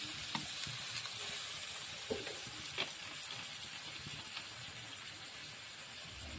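Tomatoes sizzle steadily in a pan for an aloo-tomato dish after a splash of water, with a dense frying hiss and occasional soft stirring scrapes and taps.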